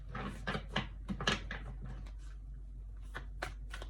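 Soft riffling and tapping of a Moonology Manifestation Oracle card deck being shuffled, a series of quick papery flicks over a low steady hum, fairly close and quiet.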